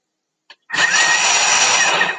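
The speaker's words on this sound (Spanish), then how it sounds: "Le voy a poner aquí en velocidad turbo 2 veces" A Thermomix kneads dough on turbo speed, starting after a short click with an abrupt loud, close motor whir that holds steady for about two seconds.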